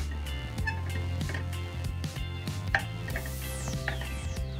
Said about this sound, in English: Give this a stir, break up the mince.